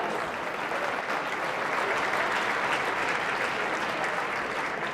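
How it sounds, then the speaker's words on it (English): Steady, loud applause from an audience at a charity gratitude gala auction, a dense continuous clatter of many hands clapping that holds evenly for the whole stretch with no voices over it. "There's a round of applause."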